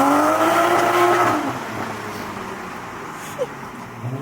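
A Toyota A90 Supra with a loud aftermarket exhaust revs, its engine note climbing and then falling away into a lower, rougher drone.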